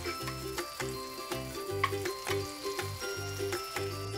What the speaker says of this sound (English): there's a lot of oil in the pan and they're gonna splat